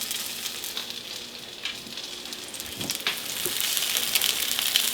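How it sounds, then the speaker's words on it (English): Cheesy chicken fritters frying in a pan of mixed avocado and olive oil, a steady close hiss and crackle of hot oil that grows slightly louder toward the end, with no talking. "I have a mixture of avocado and olive oil in my pan"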